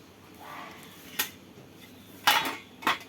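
A knife cuts bread slices into even pieces for bread pakoras, producing three or four sharp, separate taps and clicks against a board, close and fairly quiet, with soft rustling between strokes.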